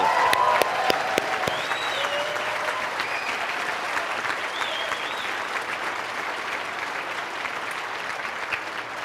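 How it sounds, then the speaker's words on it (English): A live audience breaks into a big round of applause, many hands clapping, loudest at first and with a few sharp close claps at the start, then settling into a steady wash that slowly thins. Faint crowd murmurs sit underneath. "give yourself a big round of applause."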